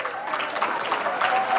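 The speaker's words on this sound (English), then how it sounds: "I'm not exactly sure what I'm getting applause for here" Audience applause at a recovery convention panel in San Francisco, a brief burst of clapping with some crowd murmur, fairly close and steady for under two seconds.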